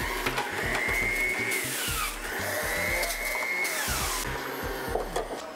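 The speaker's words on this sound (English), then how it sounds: "I'm also then going to juice fresh pineapple into this." Electric juicer processing fresh pineapple in a kitchen, a steady motor whine with rhythmic grinding and thumping as chunks feed through, rising in pitch twice, without any talking.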